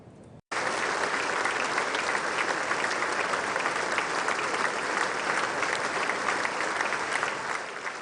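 Sustained applause fills the US Congress chamber after Modi's speech, a dense, steady roar of many hands clapping that starts abruptly after a brief quiet moment and continues without pause.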